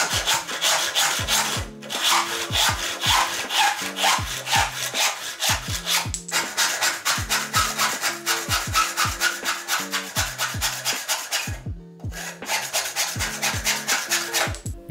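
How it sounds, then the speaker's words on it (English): A push saw cuts through wood with a steady, rhythmic run of rasping strokes, close and loud, with no one talking, and brief pauses between sets of strokes. "these two saws are referred to as push saws, meaning they cut on the push stroke"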